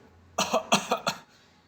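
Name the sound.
old gardener coughing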